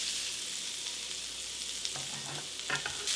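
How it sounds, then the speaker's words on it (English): Shallots and garlic dropped into about two tablespoons of hot oil in a pan, a constant bright sizzle with a few stirring scrapes near the end, close and alone. "we'll put in our shallots and our garlic."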